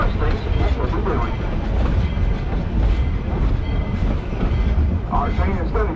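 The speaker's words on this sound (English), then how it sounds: "Our train has been crossing over Clear Creek for the first of four times on our descent" A tourist train rumbles steadily along the rails while crossing Clear Creek near Georgetown, Colorado, a continuous loud roar with faint rhythmic clatter from the wheels throughout.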